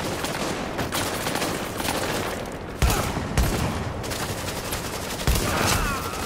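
Machine gun fire in a Dark Zone co-op match of The Division: continuous loud rattling gunfire with a few sharper heavy shots and booms, filling the whole moment without speech.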